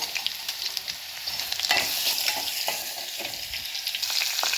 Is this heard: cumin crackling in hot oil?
yes